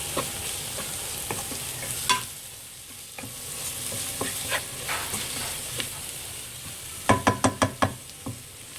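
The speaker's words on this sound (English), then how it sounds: "Then give it a good mix. Let all the spices get soaked up with the oil." Sri Lankan fish curry spices are stirred in hot oil, giving a constant sizzle under scraping spoon strokes that speed into a quick run of sharp clinks near the end.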